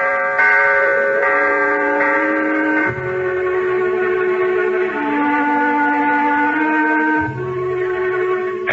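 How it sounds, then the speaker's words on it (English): A deep bell tolls in a radio drama about the Battle of the Alamo, its sustained ringing tones layered and steady throughout, loud and without any talk. "That bell is tolling for us."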